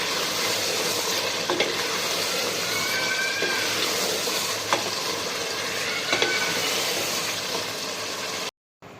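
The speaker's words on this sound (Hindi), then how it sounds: "इसको अच्छी तरह 5 मिनट के लिए भून लेंगे" Chicken pieces for achari chicken fry in a pan with a steady, loud sizzle, and a spoon stirs them now and then, giving a few brief scrapes.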